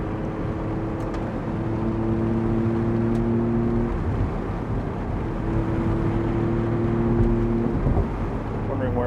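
A Maserati MC20 Cielo's engine runs steadily from inside the car, with a loud, low, slightly diesel-like drone whose pitch holds, then drops and climbs again as the car drives.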